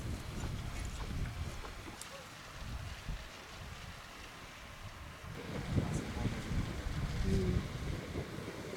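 Horse hooves clip-clop at an uneven walking pace outdoors, fairly faint under gusty wind noise and a voice talking nearby.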